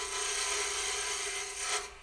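An Easy Wood Tools lathe tool rolls into spinning wood to widen a groove, a steady close scraping rasp with a sustained high hiss that swells briefly near the end.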